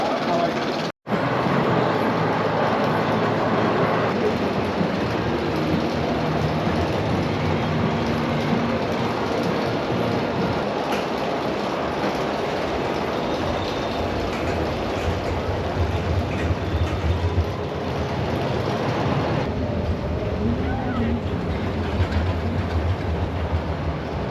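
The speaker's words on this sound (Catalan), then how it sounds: "estem a la part final de Mèxic perquè hem vingut a fer el tren de la mina." The PortAventura mine train roller coaster rumbles along its track in a long, loud, continuous roar with rattling wheels and clattering cars, while riders' voices are heard faintly under the noise throughout the ride.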